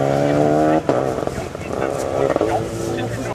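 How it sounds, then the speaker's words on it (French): A race car at a hill climb event in Normandy, a two-seater class car, roars loudly with a steady engine note that shifts and rises as it passes close by, under continuous commentary over a loudspeaker. "La première voiture qui se présente devant nous, ce seront les voitures de double monte"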